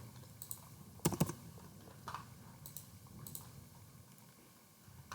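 Word typed out on a computer keyboard, a short flurry of light key clicks with a sharper burst near the start, then scattered taps fading into quiet room tone, no voices.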